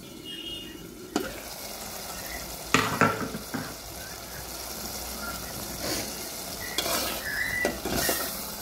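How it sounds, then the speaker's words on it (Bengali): Beans and potatoes sizzle in hot oil in a pan while a spoon scrapes and stirs, sharp clattering strokes breaking through a steady frying hiss. "সিম আলুগুলো দিয়ে ভালো করে কষাবো, নেড়ে চেড়ে দিব।"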